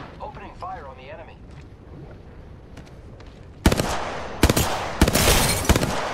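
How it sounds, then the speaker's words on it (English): Gunfire in Apex Legends season 6 as Rampart, loud bursts of rapid shots erupting after a stretch of voice chatter and quieter game sounds, with several sharp cracks in close succession. "Opening fire on the enemy."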